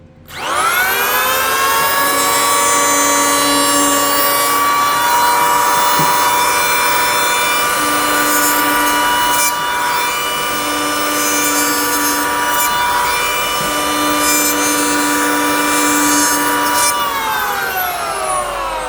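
Electric wood planer switched on and smoothing wood: the motor spins up sharply, then holds a loud, steady whining hum with a rasping cut for about seventeen seconds before winding down, with no voices.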